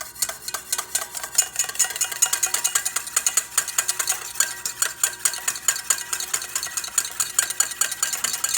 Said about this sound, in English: As you can see, the oil is going slow, the whisk doesn't stop.